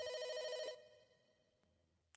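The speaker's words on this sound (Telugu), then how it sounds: "నీకు ఫోన్ వచ్చింది" A telephone rings in a Doraemon cartoon episode: one short, bright electronic ring burst that cuts off abruptly, followed by a quiet, nearly silent tail.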